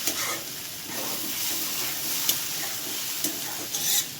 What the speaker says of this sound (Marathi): त्यामध्ये चवीनुसार मीठ, तिखटवाली लाल मिरची आणि काश्मीरी लाल मिरची परतून घेऊ आपण.